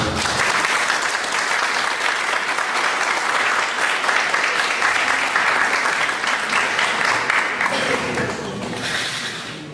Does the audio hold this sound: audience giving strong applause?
yes